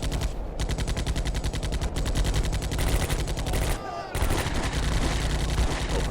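Rapid bursts of automatic gunfire from Combat Mission: A Bridge Too Far rattle on in dense, repeated volleys, with one brief lull before the firing resumes, loud and close.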